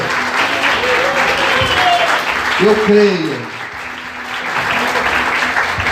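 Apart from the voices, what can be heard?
church congregation applauding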